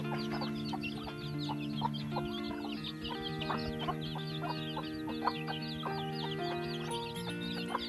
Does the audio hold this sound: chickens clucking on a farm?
yes